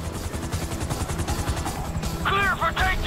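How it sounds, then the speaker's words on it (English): A helicopter thuds rhythmically during a GTA 5 raid, its rotor chop layered with gunfire and combat effects, while a voice speaks over the action. "Hey, chopper's here!"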